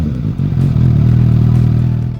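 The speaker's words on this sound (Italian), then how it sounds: "dotata dello scarico dedicato da SC Project, che dona al motore 750 una splendida voce" Suzuki 750 naked motorcycle engine breathing through an SC Project exhaust, a steady deep low-pitched drone that builds after a brief clattery start and holds loud and close for about two seconds.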